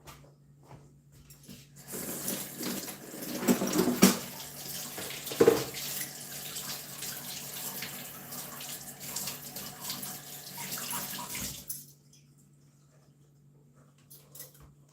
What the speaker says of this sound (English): So I'm going to wash these beaters off here.